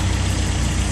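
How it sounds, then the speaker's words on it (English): The engine of a 1956 Land Rover Series I 86-inch wheelbase idles in a steady, even low rumble that stays constant and fairly loud throughout, with no voices. "the engine is running like a beautiful clock. Not even noisy."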